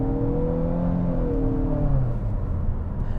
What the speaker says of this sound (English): this is one of the smoothest 4-cylinder turbocharged engines that you're going to find